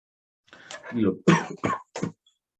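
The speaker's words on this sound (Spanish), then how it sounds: "a propósito que estoy tosiendo" A person coughs several times in quick succession, close and fairly loud, with short pauses between the bursts.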